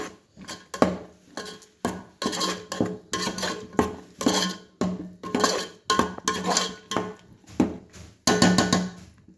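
A spoon scrapes and stirs egg dum biryani in a metal pot in quick, repeated strokes, close up and rhythmic.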